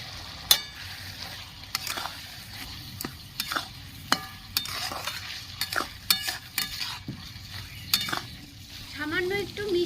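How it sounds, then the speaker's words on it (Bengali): Fried prawns stirred into a thick village-style ash gourd curry in a pan, with steady scraping strokes of a spatula over a soft sizzle, close and fairly quiet, no talking. "ভেজে রাখা মাছগুলো দিয়ে দিচ্ছি"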